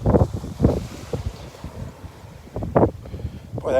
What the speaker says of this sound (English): Boy, that wind has just really picked up just now.